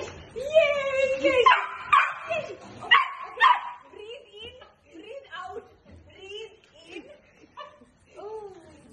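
A dog yips and whimpers in high, wavering bursts, with barking close by, while a person talks excitedly over it.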